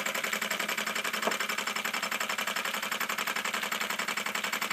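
Mini steam engine driving a small 230V generator that charges a tablet, running steadily with a fast, even mechanical chatter and a rapid rhythmic pulse, close and continuous.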